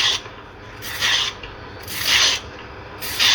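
A peeler scrapes down a carrot on a kitchen board in four close, rasping strokes, each lasting about half a second, separated by short pauses.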